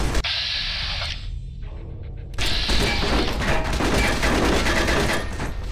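Explosives detonating in Fallout: New Vegas, giving a dense, crackling roar of blasts and debris that drops away briefly, then returns even louder and more chaotic for several seconds.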